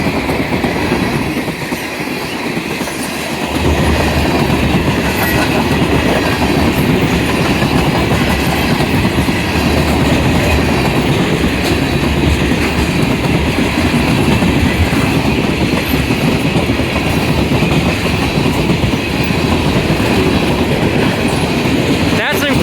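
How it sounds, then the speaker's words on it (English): A westbound CN freight train with a big locomotive lashup passing close on the Freeport subdivision: a loud, continuous roar of rumbling engines and clattering wheels that builds in the first seconds and then holds steady throughout. "That there was a giant locomotive lashup."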